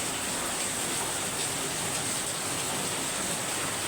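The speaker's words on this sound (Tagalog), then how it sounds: "Tuloy-tuloy pa rin ang buhos ng ulan," Heavy, continuous rain from a typhoon pours steadily as an even, dense hiss that fills the whole stretch, with no voices.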